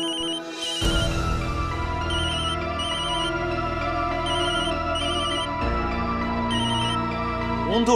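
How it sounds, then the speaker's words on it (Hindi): A telephone ringtone plays repeatedly in a domestic setting, a bright electronic melody looping in short bursts over steady background music, with no talking. "फोन तो उठाना।"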